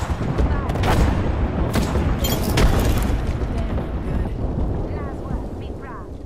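Artillery strike in Apex Legends: a dense, heavy rumble of overlapping blasts and booms rolls on continuously, loud and close, with sharper cracks scattered through, and game voice lines are heard over it.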